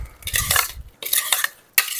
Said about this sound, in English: Just mix it up